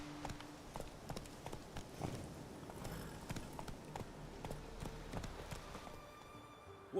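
Horse hooves clip-clopping in Witcher 3, a steady run of light, even hoofbeats at moderate distance over quiet ambience.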